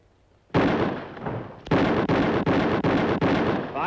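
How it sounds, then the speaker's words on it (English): In a shooting contest, a pistol fires about five loud, close shots in quick succession. The rapid blasts run almost together, and an earlier heavy burst comes before them. "Drawing fire. 5 shots, 5 seconds."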